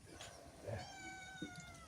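A faint cat meows once or twice, drawn-out and tonal, against a steady background hum.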